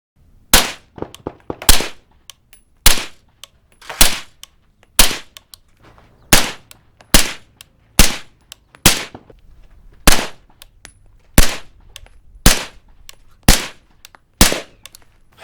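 Suppressed rifle shots with 147 grain supersonic ammunition through an Otter Creek Labs Universe-36 suppressor with a non-vented end cap, about fourteen sharp loud cracks fired at a steady pace, each with a short decaying tail.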